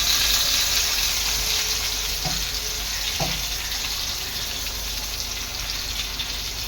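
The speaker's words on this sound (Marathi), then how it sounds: "संपूर्ण पीस टाकून दोन्ही साईडने मी आता हे चांगले तळून घेणार आहे" Pieces of tuna fish (kupa) frying in green masala in a pan, a steady loud sizzle and crackle of hot oil throughout, with two brief clinks partway through and no talking.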